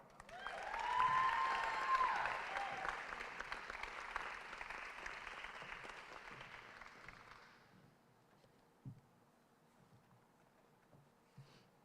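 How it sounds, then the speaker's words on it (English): Audience applause at the Wendell Scott Foundation Legacy Gala honoring Anaya Carter, a Danville, Virginia native, with the Legacy Award; sustained hall clapping swells early, holds for several seconds, then thins out and fades to quiet with a few stray claps. "Please, big round of applause for Miss Anaya Carter."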